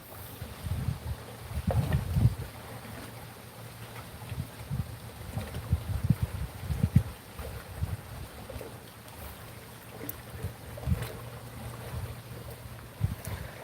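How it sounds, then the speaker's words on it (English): Gusts of wind rush past in uneven bursts, with a low rumble from water and a boat, and no talking. "it is so windy"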